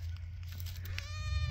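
A baby goat on a farm gives a faint, thin bleat toward the end, set over a steady low hum of background noise.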